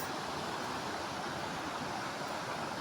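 A waterfall pours in a steady, dense rush of broadband noise with no pauses, close and fairly loud, with no one talking over it.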